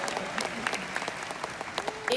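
At a leadership conference in Nashville, an audience claps for a company's Great Start program, a short spell of moderate, somewhat scattered applause with voices faintly mixed in.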